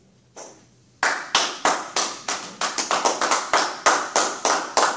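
A church congregation claps together in a steady, even rhythm: a single early clap, then about fifteen sharp, loud claps in quick succession, with no voices.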